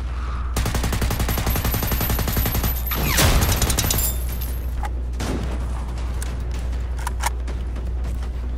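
Heavy sustained gunfire from a robot Hunter firing in the video game Generation Zero, a loud dense barrage with a bright sharp crack near the middle, continuing as a steady roar with scattered later shots.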